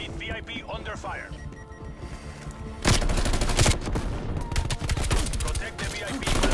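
Rapid automatic gunfire from Call of Duty Black Ops Cold War gameplay, dense bursts of shots that grow louder partway through and continue steadily, with game voices calling out over the firing.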